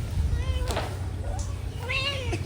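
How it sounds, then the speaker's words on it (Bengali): A pet cat meows twice indoors, with rising, wavering calls over a low steady hum. "মিয়াও।"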